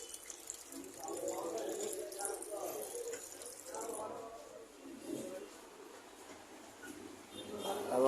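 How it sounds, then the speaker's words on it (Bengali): A washroom basin tap runs while hands are washed in a restaurant washroom in Chittagong, with a soft water stream beneath someone talking nearby. "ওয়াশরুমে বেসিনে হাত ধুচ্ছি।"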